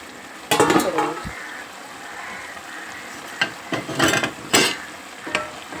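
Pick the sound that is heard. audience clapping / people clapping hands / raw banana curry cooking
raw banana curry cooking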